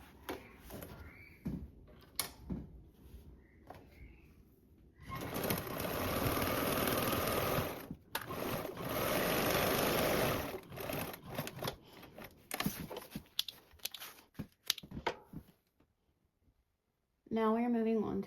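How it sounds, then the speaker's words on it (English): A sewing machine bastes two fabric pieces together in a loud, steady run of about three seconds, then a second longer burst, set between quieter handling clicks and taps with a brief tone at the end. "Now I'm going to baste these two together."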